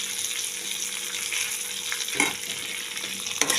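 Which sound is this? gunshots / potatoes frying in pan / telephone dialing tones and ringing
potatoes frying in pan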